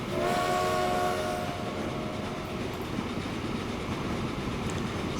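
Train rolling along in the Transport Fever game, a steady loud rumble with rail clatter and a drawn-out horn-like tone near the start, continuous with no talk.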